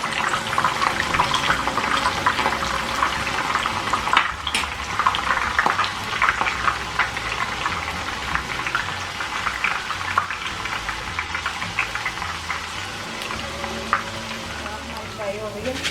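Nimko frying in hot oil in a home kitchen, a steady dense crackle and sizzle that continues evenly without pause, close and fairly loud.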